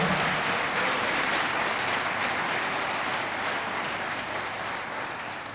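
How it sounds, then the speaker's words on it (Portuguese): A church congregation applauds in a dense, sustained wash of clapping that holds steady for several seconds and fades slightly toward the end, with no speech over it. "Você quer aplaudir ao Senhor por essas coisas que Ele tem feito na nossa?"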